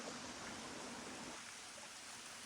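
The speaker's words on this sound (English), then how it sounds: "I got a nice stream over here." A small stream flows near a trail campsite, a faint, steady rushing and burbling of water heard alone.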